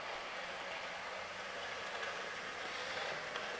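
Hornby Castle Class model locomotive running along its track, a steady, quiet hiss of the mechanism and wheels with no distinct beats, heard alone without voices.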